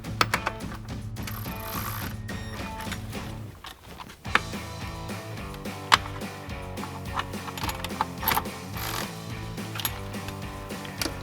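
A ratcheting wrench clicks steadily while tightening a 13mm bolt on an Amp Research PowerStep Xtreme running board under a 2021 F-150, close and rhythmic mechanical clicking with a short pause, no talk.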